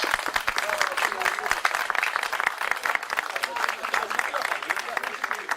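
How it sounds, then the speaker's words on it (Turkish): Crowd applause for a champion football team at an outdoor picnic, brisk and continuous clapping at moderate distance, with voices mixed in. "Kendilerine kocaman bir alkış."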